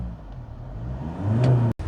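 A used car engine being checked in South Korea revs up during acceleration, a steady idle rising into a brief, louder surge before cutting off.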